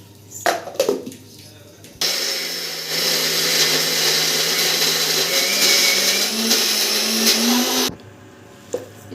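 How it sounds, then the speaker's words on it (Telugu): A mixer grinder whirs loudly for about six seconds grinding soaked lentils, its motor pitch slowly rising, with quieter clattering before and after. "ఇప్పుడైతే దీన్ని మిక్సీ పట్టేసుకుందాం"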